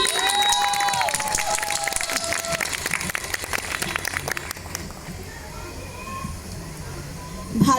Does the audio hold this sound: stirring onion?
no